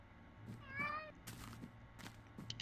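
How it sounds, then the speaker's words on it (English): Cat meowing in Minecraft, a single clear drawn-out game meow, followed by clicks and other game sounds. "Cat."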